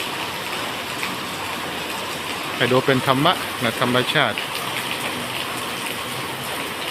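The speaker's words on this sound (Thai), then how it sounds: "ในช่วงฝนตก" Steady rain hiss fills the background throughout, with someone speaking briefly in the middle over the constant downpour.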